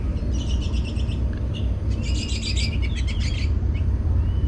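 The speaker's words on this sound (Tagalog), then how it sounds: "maraming ibon, oh." Many birds chirp and twitter in trees at a tropical fruit orchard, with bursts of bright calls over a steady low background rumble and no talking.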